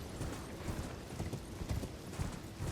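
Horse hooves gallop in the video game Elden Ring, a continuous quick clip-clop rhythm at moderate loudness under steady background ambience.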